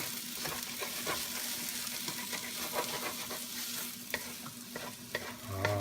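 Vegetables being stirred into Japanese fried rice in a hot pan: a constant frying sizzle with repeated scraping and tapping of a spatula, close and moderately loud.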